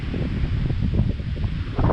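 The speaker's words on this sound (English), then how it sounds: "So it's canny windy," Wind gusting across a riverside wild camp on the River Derwent, a steady blustery rush and rustle buffeting the microphone, close and continuous.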